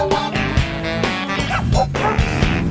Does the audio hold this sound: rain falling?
no